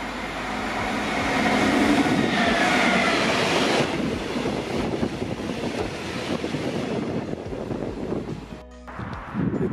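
A train runs past on the Left Rhine line near Sinzig, a loud, steady rush of wheels and carriages that builds and holds for several seconds, then briefly dips before the rumble continues.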